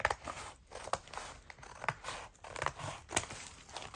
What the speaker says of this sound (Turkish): şöyle beslememi çizgiden kesiyorum işaretlediğim yerden